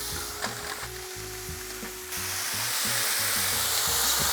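Eight slices of streaky bacon frying on the cooler side of a barbecue, a steady close sizzle that swells louder and denser after the first couple of seconds.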